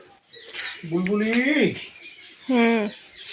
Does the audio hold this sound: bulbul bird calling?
yes